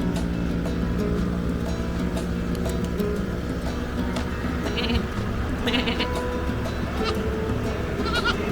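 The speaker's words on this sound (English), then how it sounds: "it sure had some cute little baby goats" Baby goats at a small roadside goat stand in rural Colombia bleat repeatedly in short, close cries over a steady low background hum, with several overlapping calls throughout.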